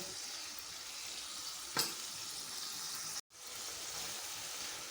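Mutton keema frying in a karahi gives a steady, fairly loud sizzle that runs throughout, broken by a brief clatter near the middle and a momentary drop soon after.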